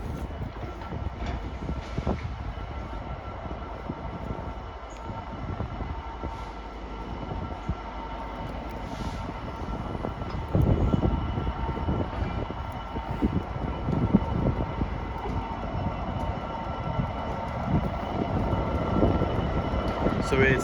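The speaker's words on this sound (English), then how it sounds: "And here is the class 66 and 59." Class 66 66503 and class 59 59104 freight locomotives pass at Acton Mainline on the Great Western Main Line, a loud, sustained diesel rumble with clanking wagons that swells midway and stays heavy to the end.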